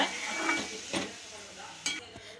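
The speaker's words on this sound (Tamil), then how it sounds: "அப்படியே இந்த எண்ணெயோடு அப்படியே இந்த முள்ளங்கி நல்லா கலந்து விட்டுக்கோங்க" A utensil stirs radish through sesame oil in a pan, with a few scraping strokes and clinks over a soft, low sizzle.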